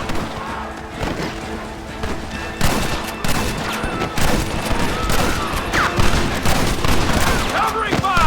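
Gunfire erupts in Red Dead Redemption, a dense, sustained fusillade of overlapping shots and bangs at close range, with voices shouting over the firefight.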